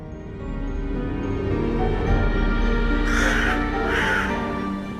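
Harsh caws from crows, two loud calls standing out in the second half above a steady rumbling background.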